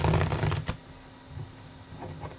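A quick riffle of tarot cards being shuffled up close, a brief burst of flicking followed by a few soft taps and settling sounds.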